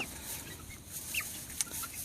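Rhode Island Red hens clucking softly outdoors on a farm, with scattered short calls over a steady background hiss.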